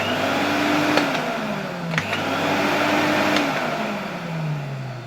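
Vintage 1973 Electrolux Z320 vacuum cleaner running with a steady broadband motor roar and a faint pitch that dips and rises, a few brief clicks, no talk.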